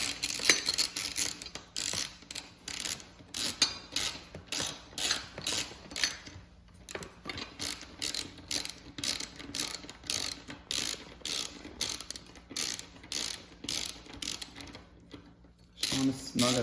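A hand ratchet driver clicks in quick repeated bursts while tightening the center bolt of a tucked taillight mount on a 2021+ Aprilia RS 660 with a T30 bit, close and rhythmic with brief pauses.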